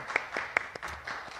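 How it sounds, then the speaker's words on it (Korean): Scattered applause from a conference audience welcomes a speaker to the stage at a gamification event, with a few distinct hand claps spread over a little more than a second in a quiet room. "큰 박수 부탁드립니다."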